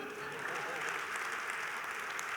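A Kavi Sammelan poetry-reading audience claps for Ashok Chakradhar in an even, continuous wash of applause. The clapping stays moderately loud for a few seconds, and faint murmuring sits underneath.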